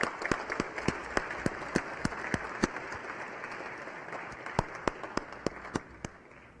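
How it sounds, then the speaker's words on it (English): Audience applause at an evening engineering prize ceremony, a dense steady wash of many hands with a few sharp individual claps standing out, sustained throughout without talk. "let's give a round of applause for everybody that's here"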